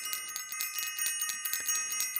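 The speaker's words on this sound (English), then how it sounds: "Let me ring the bell for Self-Invested" A bell rung rapidly and continuously, bright ringing tones layered with a steady rhythmic pulse of strikes about five per second, close and fairly loud throughout, with no talking.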